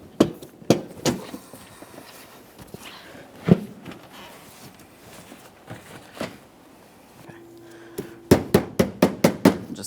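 Sharp hammer-like taps while fitting a windshield washer reservoir on a 2017-2024 GMC Acadia: scattered knocks early on, then a quick run of six or seven firm, close taps near the end.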